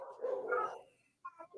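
A few dogs bark in short bursts, moderately close, with a brief pause before another bark starts.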